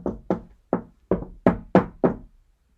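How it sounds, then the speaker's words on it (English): Seven sharp knocks on wood, close and distinct, come in an uneven rhythm with short gaps and no speech. "Knock on all the wood."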